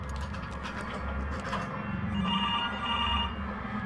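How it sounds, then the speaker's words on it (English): A telephone rings inside a garage in a horror video game, a steady ringing tone that continues throughout over a low, dark ambient drone. "Phone's ringing."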